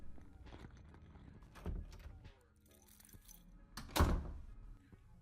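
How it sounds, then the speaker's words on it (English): Keys click and jingle in a lock, followed by a solid thunk as an apartment front door is pushed open, heard at moderate distance. "the loud clicking of keys turning, and the opening of your apartment front door"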